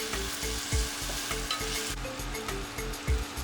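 Tomato and spices sauté in hot oil for a mataki pulao, a steady close sizzle broken by scraping stirs of a spatula against the pan.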